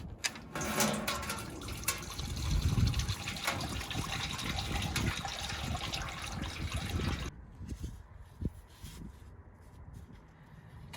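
Engine oil drains steadily from a 2012 Ford Escape, a continuous close gush of liquid pouring into a pan that thins to a quieter trickle with small drips near the end.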